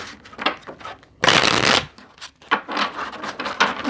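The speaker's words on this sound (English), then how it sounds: "These cards are new. They're not shuffling properly." New tarot cards shuffled in a series of quick papery riffles, with one longer, louder burst of shuffling in the middle, close to the microphone.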